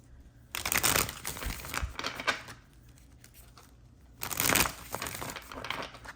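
Two bursts of crisp, papery shuffling, the riffle of tarot cards being mixed close by, separated by a quieter pause.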